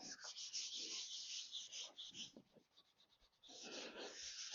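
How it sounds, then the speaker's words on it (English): A sign board is rubbed down by hand to press it flat, a close, steady scratchy rubbing in repeated strokes with a short quieter pause midway. "Give it a good rub down so we can make sure it's sticking well."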